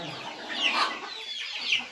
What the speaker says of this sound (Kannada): ಕೋಳಿಗಳನ್ನ ನೋಡಿ ಸಣ್ಣ ಮರಿಯಿಂದ ದಪ್ಪ ಮರಿ ಗಂಟ ಎಲ್ಲ ಸೈಜು